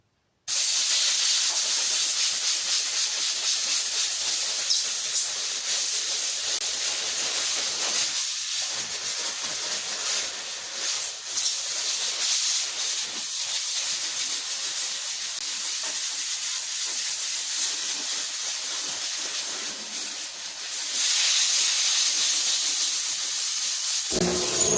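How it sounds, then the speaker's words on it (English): An air compressor with a freshly cleaned and replaced head runs with a loud, continuous airy hiss, dipping briefly twice and then swelling again near the end, with no talk over it. "My air compressor's legit working, guys."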